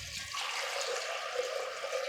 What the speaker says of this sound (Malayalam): കടല മുങ്ങി കിടക്കുന്ന അത്രയും വെള്ളം ഒഴിച്ച് കൊടുത്തിട്ടുണ്ട്